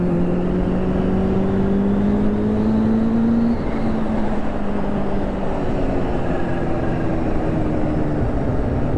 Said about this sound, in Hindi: फिर से होगी लाउड एग्जॉस्ट के साथ राइड